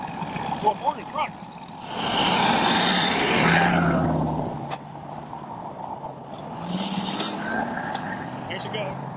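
Engine and road noise from a tow truck hauling away a Ford truck, a broad rumble swelling for a few seconds then fading out, with a voice talking over the start.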